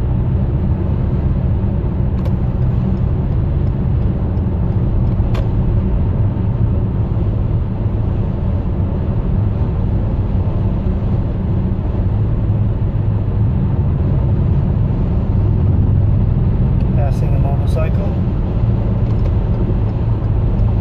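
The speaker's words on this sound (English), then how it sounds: "You can see the wind noise is a little bit more as we drive faster." Steady broadband road and wind roar fills the cabin of a 2014 Toyota Highlander cruising on the freeway, loud and continuous throughout, with a few faint ticks and a brief higher whine near the end and no talking.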